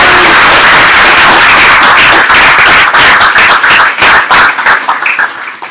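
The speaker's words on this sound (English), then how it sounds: "J'aimerais qu'on l'applaudisse." Sustained applause and clapping from an audience at a Paris.rb Ruby meetup fills the room loudly, then thins toward the end into scattered individual claps.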